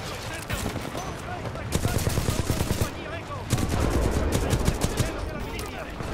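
Rapid automatic weapon fire in the video game Titanfall 2, sustained dense bursts of close, loud shots that pause briefly and resume, with a voice talking faintly underneath.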